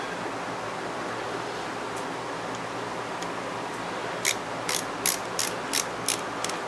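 Pliers tighten a part on a G-Made Sawback RC crawler, giving a quick run of about six sharp ratcheting clicks, close and clear over a low steady hiss.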